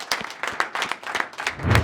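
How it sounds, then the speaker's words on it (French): A small studio audience at a talk show claps for the winners of a vote, with a short burst of close, uneven handclaps that thins out toward the end. "bravo, on peut vous applaudir"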